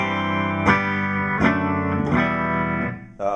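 Electric guitar played clean straight into an amp set to 3, bass about 5.5 and treble 5, no reverb: three strummed chords ring out in turn, loud and sustained, then a brief fresh attack at the end.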